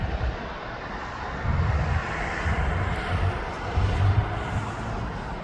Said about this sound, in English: It just says aircraft type Gulfstream G550.